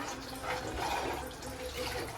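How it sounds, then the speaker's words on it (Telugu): Water poured into a cooking pot holding tamarind-based raw banana stew (aratikaya pulusu), a steady close pouring and splashing wash that lasts the whole short stretch, with no speech. "కొద్దిగా నీళ్ళు పోసేస్తున్నాను."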